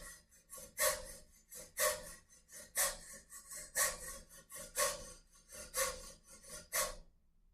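A steady rhythmic scraping of the metal springs on a spring instrument, about ten rasping strokes in even succession, close and fairly quiet, with no voices.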